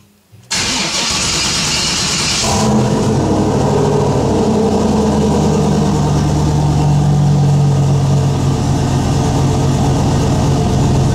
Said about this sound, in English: it really struggles to crank.